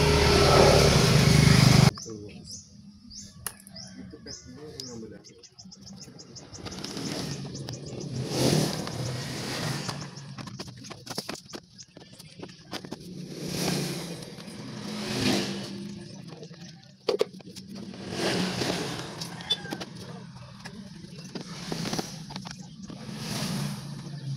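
A Honda Vario 150 scooter engine idling after a starter repair, running steadily up close with several rises in revs, often under background noise and possible talk.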